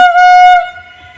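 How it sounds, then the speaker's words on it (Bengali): One loud, clear train horn blast lasting about half a second as a train approaches, then quiet background. "আর ট্রেন আসছে দেখো"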